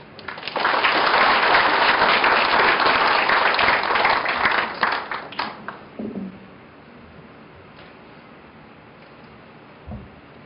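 An audience at a university president's inauguration ceremony applauds loudly for several seconds, then the clapping thins out and fades into quiet room noise.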